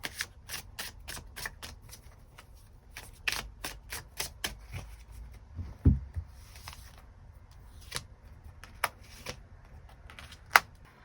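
Tarot cards are shuffled and drawn close up, with quick bursts of crisp riffling snaps and flicks, scattered louder slaps and short quiet pauses between them; no one speaks.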